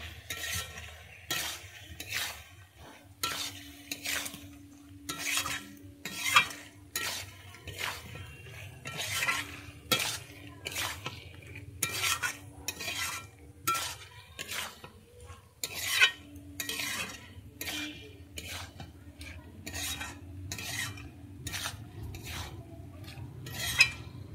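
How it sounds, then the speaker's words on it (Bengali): Fried potatoes and giant taro stirred in oil in a pan for a Bengali vegetarian curry, steady rhythmic scraping and clinking of a utensil against the pan over a low sizzle, close and continuous. "আমি এবারে যে ভেজে রাখা আলু আর সাউটা এর মধ্যে দিয়ে দিচ্ছি, দিয়ে আমি আবারও ভালোভাবে কষিয়ে নেব"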